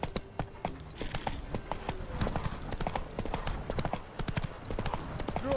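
Roach the horse's hooves clip-clopping steadily in The Witcher 3, a quick, continuous rhythmic patter of hoofbeats close by with a faint background bed.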